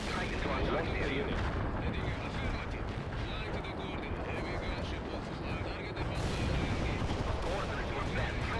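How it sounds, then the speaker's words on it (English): A heavy artillery barrage pounds away in the World in Conflict strategy game, with dense rumbling blasts rolling on continuously for several seconds, loud and close, and faint radio voices buried beneath the roar. "Heavy barrage annihilation beginning at the coordinates"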